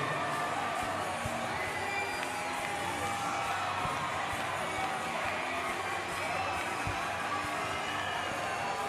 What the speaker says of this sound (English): let's get those hands up and let's get them clapping